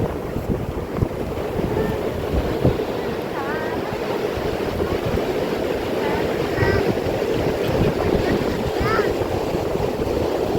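Sea waves at Wayari Bhutnath Beach in Malvan wash into a pit dug in the sand, a steady surging roar mixed with gusting wind noise and a few faint high chirps in the background.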